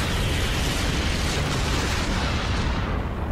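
Explosions in a Dragon Ball Super episode form a continuous, loud, broad roaring blast that fills the whole stretch and only thins slightly toward the end.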